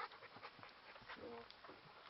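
A large dog pants in quick, breathy rhythm at a distance during an outdoor bike ride, faint and low in level with light background noise.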